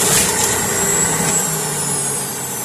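A Müeller Juicer Pro juicing apples gives a loud, steady whirring motor drone that continues unbroken, close up and alone.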